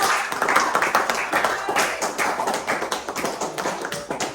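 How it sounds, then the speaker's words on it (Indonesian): A school class clapping hands for a group of students, with distinct, rhythmic claps in a quick repeated pattern that sounds close and crisp throughout. "Beri tepuk tangan dulu untuk kelompok"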